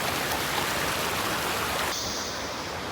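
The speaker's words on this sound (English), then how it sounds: "let's go back to that waterfall" A waterfall roars with a dense, steady rush of falling water, loud and continuous with no voices.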